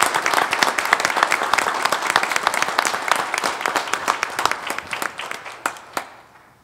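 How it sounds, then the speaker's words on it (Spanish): A crowd applauds steadily, claps dense at first, then thinning out into scattered claps before fading. "Le damos un aplauso a nuestra hermana Zoila Sarmiento"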